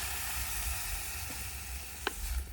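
Soya meat sizzles steadily in a pan as coconut milk goes in. The frying hiss is even and continuous, with a faint clink near the end and no voices.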